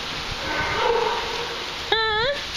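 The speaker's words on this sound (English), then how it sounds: "Who are you barking at?" A dog gives a short, high yelping bark near the end, preceded by a softer whiny vocalization, close and fairly loud over background noise.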